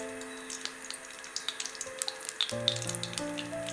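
Ghee sizzling and crackling as it melts in a heated pot for jeera rice, close, with a steady hiss and sharp pops, and a low hum joining halfway through.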